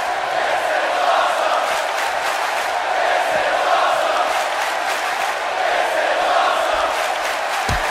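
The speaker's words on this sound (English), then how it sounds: "You can hear the crowd chanting." Wrestling arena crowd roaring and chanting in unison, a loud continuous mass of voices filling the space with rhythmic pulses throughout.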